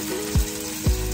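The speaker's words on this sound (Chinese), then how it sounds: "你看它侧面这边是有一层油的，可以先煎它，把这一面煎香" The fatty side of a beef steak searing in a hot oiled pan over high heat gives a steady sizzle and crackle, with two brief low thumps as the meat shifts against the pan.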